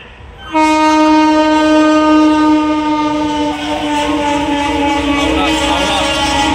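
A loud, sustained train horn blares over the steady rumble of a passenger train passing Bagnan railway station, continuing for several seconds.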